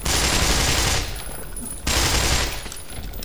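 Rapid, loud gunfire in the shooter game Black Mesa: Source comes as two dense bursts of automatic fire, each about a second long, with a short gap between them.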